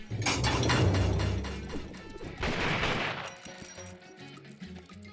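Gunfire in the video game Secret Ponchos cracks out in dense rapid bursts, then trails off into quieter clatter.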